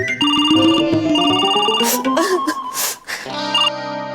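A telephone ringtone plays loudly and close, a bright electronic melody with repeating tones and rising notes, briefly broken by bursts of noise in the middle before the tune resumes.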